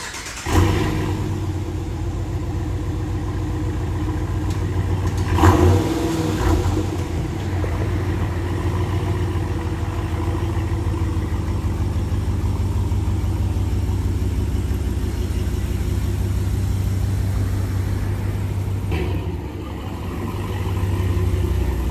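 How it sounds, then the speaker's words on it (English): 2020 Ram 1500 pickup truck engine rumbles steadily as the truck is turned around, a low, close idle and gentle revving with a couple of brief louder bumps and clunks. "So I'm gonna flip the truck around and do the backs real quick"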